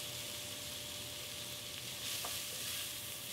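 Diced onions, carrots and celery with bay leaves and shredded basil stirred in a pan for a Bolognese sauce, giving a steady soft sizzle with scraping swells from the spoon, close and continuous, no talking.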